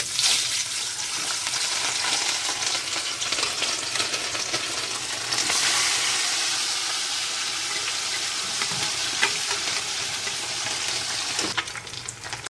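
Fish frying in hot oil gives a continuous, even crackling sizzle, close and loud, with a few soft clinks near the end.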